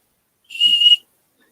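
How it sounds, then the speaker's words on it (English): A whistle carved from fatwood gives a single clear, shrill blast of about half a second, close and loud, with no talk around it. "My fat wood whistle."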